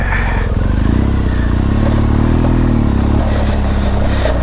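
Off-road motorcycle climbing a steep hill trail, its engine droning loud and steady close by with a rising and falling pitch as the rider works the throttle, with no talk over it.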